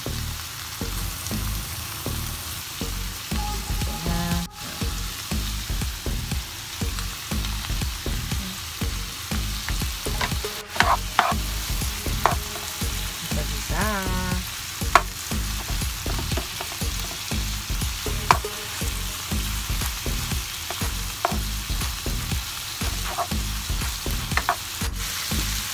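Pork and tomatoes fry in a pan, a loud, steady crackling sizzle with faint utensil clicks, continuous and close with no talking.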